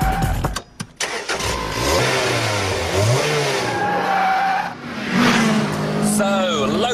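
A Vauxhall VX220 sports car laps a test track, its engine rising and falling through gear changes with tire squeal in the corners, loud and close, alongside a talking voice.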